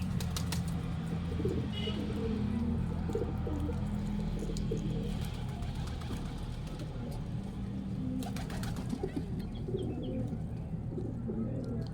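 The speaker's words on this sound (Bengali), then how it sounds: "এটা কিং, এটা কিং খাচ্ছে, এটা কিং কবুতর" Pigeons including king and king Sirazi breeds coo and flutter in a loft, a low steady cooing bed with occasional wing flaps running throughout at close range.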